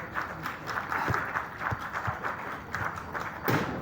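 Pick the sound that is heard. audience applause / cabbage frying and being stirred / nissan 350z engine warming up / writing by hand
audience applause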